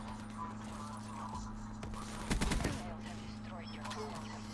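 Brief automatic burst from a VMP submachine gun fired from the hip in Call of Duty Black Ops 3, a rapid cluster of shots around the middle over steady game background noise.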